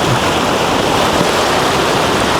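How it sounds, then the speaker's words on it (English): A big ocean wave breaking in a loud, dense, continuous roar of surging water and spray, close and overwhelming throughout. "big wave, brace yourself"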